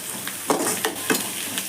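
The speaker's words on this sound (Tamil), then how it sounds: "இந்த டைமில் நான் கேபேஜு எல்லாம் போட்டு வதக்கிக்க போகிறேன்" Onions and cabbage sauté in a pan, a close, loud sizzle broken by rhythmic bursts of stirring and scraping about every third of a second. No talking.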